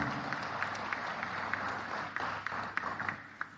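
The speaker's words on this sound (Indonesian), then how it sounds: "Tepuk tangan untuk beliau." A seminar audience gives scattered applause, a quiet, somewhat distant patter of hands with a few sharper individual claps standing out, continuing for several seconds in a room with background murmur.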